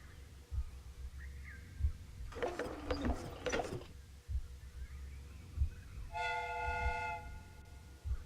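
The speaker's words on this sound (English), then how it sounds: "The steam whistle is ready to be used." A steam whistle in the Sherlock Holmes Crimes and Punishments game is preceded by clanking train machinery and a rushing hiss. The whistle then sounds one clear, sustained multi-tone blast of about a second over a low mechanical rumble.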